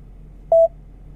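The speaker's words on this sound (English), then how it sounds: "Dialing." A single short electronic dialing tone from the voice-command phone system of a 2015 Range Rover, clear and steady over a low cabin hum.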